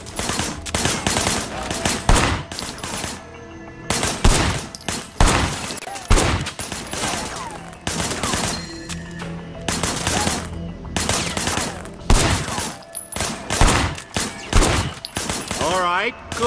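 Bursts of automatic gunfire rattle in the video game Sleeping Dogs, loud repeated volleys separated by short gaps, with voices talking between them.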